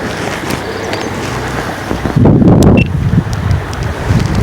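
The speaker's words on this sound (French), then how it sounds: "Alors aujourd'hui on a un peu de vent." Steady wind blowing across an outdoor microphone, with a loud buffeting gust in the middle before it settles back to a constant rush.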